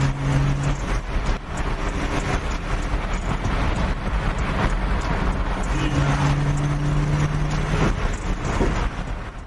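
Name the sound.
Chevrolet Impala accelerating at full throttle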